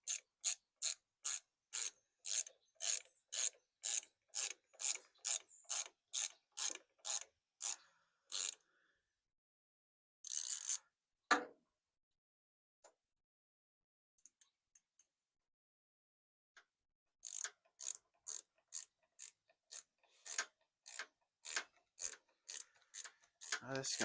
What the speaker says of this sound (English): Finally tightening everything up.